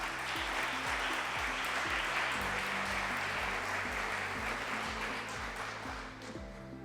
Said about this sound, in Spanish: Recibimos con un fuerte aplauso a Antonio Jaume Montserrat